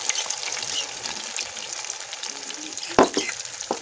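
Semolina soaked in milk being stirred in a pan for makhandi halwa, a steady close sizzle and wet scraping throughout, with a few sharper clanks of the spoon against the pan near the end.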